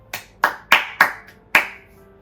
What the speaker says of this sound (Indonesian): Beri tepukan tangan bagi mereka ini.